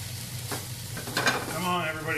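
Greens wilt in a hot frying pan with a steady close sizzle and stirring scrapes, while a voice speaks faintly over it toward the end.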